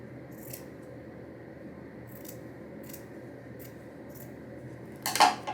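Scissors cut through fabric for a homemade summer top, a few crisp snips close by and a louder cluster of cutting and rustling at the end, with no talking.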